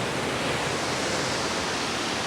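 Powerful mountain waterfall roaring in a dense, unbroken wash of falling water, loud and close, with no voices over it.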